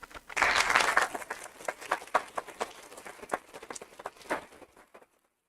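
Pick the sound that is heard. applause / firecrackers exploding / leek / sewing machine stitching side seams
applause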